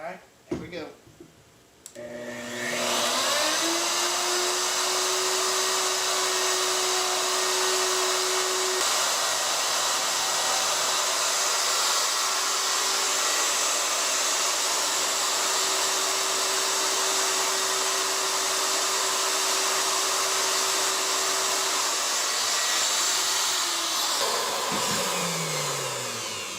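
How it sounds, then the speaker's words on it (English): Handheld router cutting a latch recess into the edge of an interior door, a steady high-pitched motor whine running for about twenty seconds after a short start, then spinning down. "set the router inside there where the latch goes, and adjust it"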